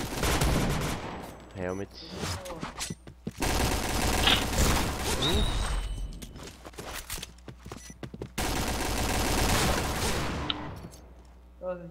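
Rapid bursts of gunfire and shots in an online shooter match, loud and dense with short gaps, while players talk over the action.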